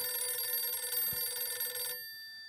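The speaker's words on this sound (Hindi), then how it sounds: "अय्यर का फोन स्पीकर पे रखो।" A telephone rings with a steady electronic trill that cuts off near the end, quiet and heard alone.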